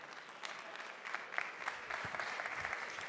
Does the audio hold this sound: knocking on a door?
no